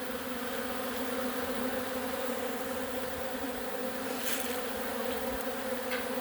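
Dense, steady hum of many honeybees swarming a sugar syrup community feeder, a continuous close buzzing drone throughout with no talk.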